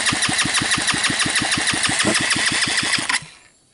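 A Hammerhead off-road go-kart engine cranks over during a compression test with a fast, even, rhythmic chugging from the starter. It sounds loud and close for about three seconds, then cuts off abruptly into near silence.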